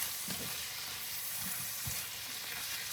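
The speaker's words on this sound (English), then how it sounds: "I want these zucchinis more cooked up." Zucchini fries in a hot pan with a continuous bright sizzle and hiss, with occasional soft stirring scrapes beneath, close and steady.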